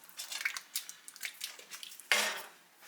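Soup seasoned with paprika is stirred in a pot, giving wet squishing, sloshing and light spoon scrapes in quick irregular strokes. A louder splash comes near the end.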